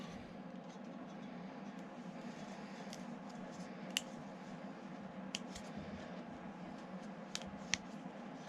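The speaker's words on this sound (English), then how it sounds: "so we're just gonna trim down the plastic" Faint snips of scissors or a blade trimming the melted plastic end of a nylon snowblower pull rope, a few sharp small clicks over a low steady background hum, quiet and close.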